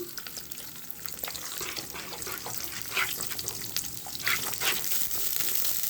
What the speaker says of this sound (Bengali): ডিমগুলোকে আমি ধীরে ধীরে করে ভেজে নিয়েছি, নামিয়ে নেব।